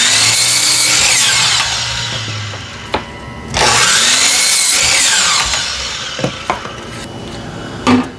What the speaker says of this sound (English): we're going to start with our 1x4 here at the miter saw